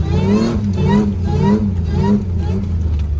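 A supercharged Toyota Hilux with an L67 engine revs hard on sand, loud and close, its engine note rising and falling in repeated surges with people talking over it.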